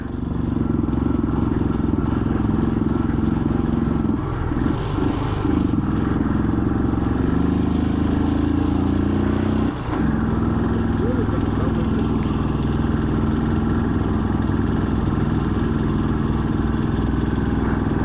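A motorcycle on a bike trip in Ooty labours uphill, its engine giving a steady, strained drone with uneven clattering surges throughout.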